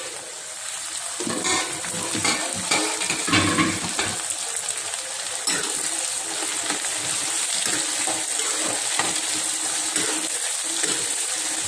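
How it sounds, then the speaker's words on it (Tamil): Onions and tomatoes sauté in oil in a pan for a South Indian brinjal curry, ennai kathirikai kulambu. A soft continuous sizzle sits under repeated clicking and scraping strokes of a spoon stirring, close by, with no talking. "தக்காளியை சேர்த்துக்கணும்,"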